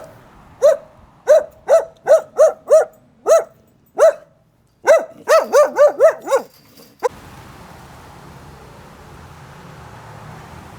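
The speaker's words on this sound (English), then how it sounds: "Another example of tourist hating doggos." Dogs in Honolulu bark repeatedly and close by, a string of sharp single barks followed by a quicker burst, then the barking stops and a low background hum remains.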